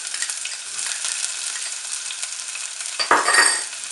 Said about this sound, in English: Then stir fry for a few seconds.